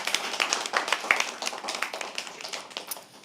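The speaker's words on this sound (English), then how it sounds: "Can we have a round of applause for everyone who shared?" A small audience at a live poetry open mic at The Habitat gives a soft, scattered round of hand claps, quiet and close, with uneven individual claps throughout.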